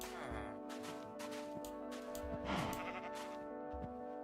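Sheep bleating in Minecraft, several short repeated bleats with a steady game music or ambience bed underneath, fairly close and clear.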